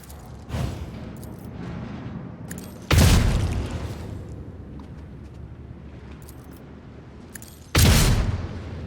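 Weapon fire attacks in the Rogue Trader video game: three heavy, booming bursts, the first short and the second and third loud and sharp, set against a low, steady background rumble.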